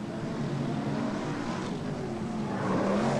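Sprint cars race at Western Springs, a continuous loud, heavy engine roar from the pack that holds steady and builds slightly toward the end, with no talk.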